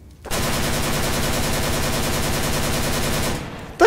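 AK-47 firing full auto in Counter-Strike: Global Offensive, a sustained, loud rattling burst of rapid evenly spaced shots that runs for over three seconds before cutting off abruptly.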